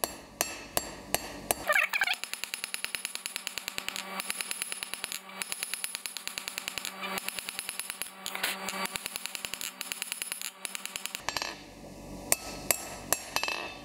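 A hammer strikes a hot steel bar on an anvil to forge an octagonal taper: a few spaced blows, then a long fast run of ringing, evenly paced strikes, slowing to scattered taps at the end.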